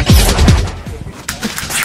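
Toy gun bought while Diwali shopping fires a quick burst of sharp pops, two or three close, loud cracks in the first half-second, followed by scattered fainter clicks and rattles.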